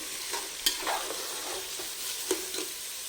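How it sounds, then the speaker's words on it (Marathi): Onions frying in a pan for chicken pulao, a soft continuous sizzle with a couple of sharp utensil knocks and scraping stirs. "हा सगळा कांदा चांगला लालसर होईपर्यंत ह्याच्यात तळून घ्यायचा आहे"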